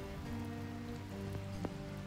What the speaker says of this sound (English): we got the rain, finally.